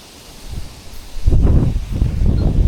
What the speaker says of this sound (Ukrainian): Ох і вітер сьогодні.